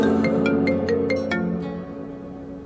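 A mobile phone ringtone plays as a soft melodic electronic tone sequence over sustained background music, with several short bright notes in quick succession that then fade.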